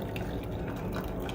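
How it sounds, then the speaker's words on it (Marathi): Water is poured into tomato puree while cooking, giving a soft, continuous trickle with light splashy drips throughout, close and fairly quiet, with no talking. "पाणी टाकून घ्यायचे."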